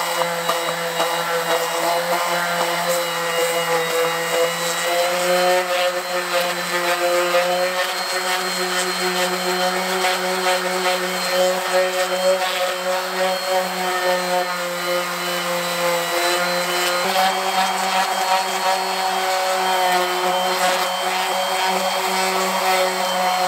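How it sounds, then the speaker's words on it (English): A power sander works across an aluminum wheel rim under light pressure, giving a steady, loud, continuous whine with a droning hum that holds level throughout, with no talking. "You just move along and it'll sand perfectly."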